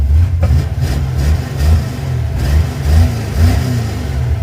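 A car engine fitted with an Edelbrock 1405 carburetor, running after a QFT carb swap, rumbles low and loud with several quick throttle blips swelling and falling in a steady rhythm.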